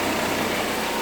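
Onan 7.5 JB generator engine running warmed up after an oil change, a steady close mechanical drone with no change in speed across the short clip.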